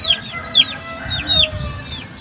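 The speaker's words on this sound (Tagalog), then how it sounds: "Ito yung pangatlo na sisiw na lalagyan din mga kasabong." A young chick being dosed with medicine drops for coryza gives several high, quick chirps at close range over a low background rumble.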